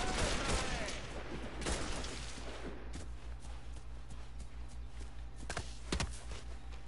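Scattered gunshots pop out of dense, noisy action in the video game Mafia 3, cover fire set in Frisco, with several sharp cracks standing out over a rumbling, crowded background.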